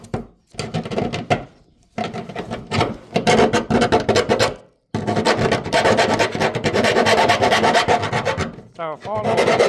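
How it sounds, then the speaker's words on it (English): A hand file rasps back and forth over freshly cut holes in the metal body of a 2011 Mazda BT-50 during a snorkel install, loud, close strokes in several bursts with short pauses between them. "So I'm going to file all these down."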